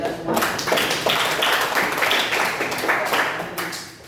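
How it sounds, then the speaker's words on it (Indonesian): Audience clapping during a classroom teaching demonstration at an Indonesian school, a dense steady patter of many hands lasting throughout, fairly loud and close with a crowd murmur underneath. "Tepuk tangan pada kita semua"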